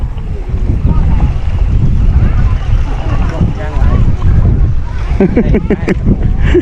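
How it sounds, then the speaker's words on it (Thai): Strong wind buffets the microphone beside Bueng Lahan lake, a loud, constant low rumble and roar throughout, with a voice briefly audible near the end. "โอ้ลมเว้ย"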